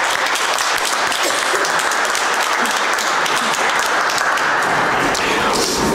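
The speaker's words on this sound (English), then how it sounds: "let's give them another round of applause" Sustained round of applause from a gathered audience honoring vocalists and a bagpiper, steady dense clapping filling the room at close range for the whole stretch without pause.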